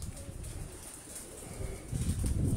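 A rooftop pigeon of Sialkoti bloodline coos softly nearby, with faint wing flutter and rustling rising toward the end.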